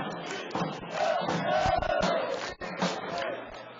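Amateur varzea football fans celebrate a title alongside the team, a loud crowd shouting and cheering in bursts with claps and thumps, voices merging into a roaring chant.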